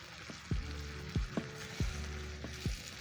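Beef and paprika stir fry sizzles steadily in a hot pan with a close, even hiss. Regular scraping thumps of stirring come about every half second.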